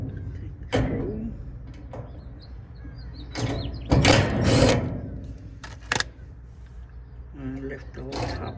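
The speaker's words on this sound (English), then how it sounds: "you just need a Phillips driver bit, screwdriver. Take the screw." A Phillips screwdriver works a screw loose on the top panel of a Roper gas dryer. Short, close metallic clicks and scraping bursts come at irregular intervals between quieter pauses.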